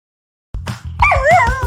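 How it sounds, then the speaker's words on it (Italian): After a moment of silence, a dog lets out close, loud yips and a short rising howl-like whine, with no talking. "Non senti l'ululato?"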